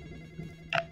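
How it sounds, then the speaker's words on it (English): A telephone rings once in The Graveyard Experience, a horror video game set in a graveyard house: a short, bright electronic ring near the end over a low background hum. "Answer the phone."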